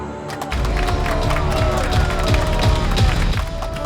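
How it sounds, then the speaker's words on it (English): A studio audience applauds and cheers throughout a rugby betting show, steady dense clapping filling the room after a brief quiet start, with a music bed beneath. "You're right to applaud me"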